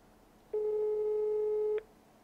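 A telephone busy tone in the video game Farming Simulator 15 sounds as one steady electronic beep lasting just over a second, clear and alone against quiet background.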